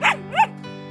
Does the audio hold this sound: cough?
no